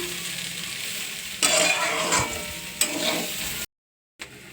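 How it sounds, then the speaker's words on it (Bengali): Vermicelli fries in a pan with sugar while it is stirred, giving a close, crackling sizzle with scraping strokes that grow louder in bursts. The sound stops briefly near the end and then resumes. "পরিমাণে একটু চিনি দিয়ে দেবো একটা ভালো করে নাড়তে থাকবো"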